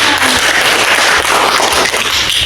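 First-grade children clap together in an Indonesian language class, a loud, dense and steady round of applause filling the room.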